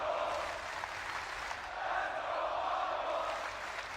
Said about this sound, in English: And the crowd is now cheering for the Mongol squad.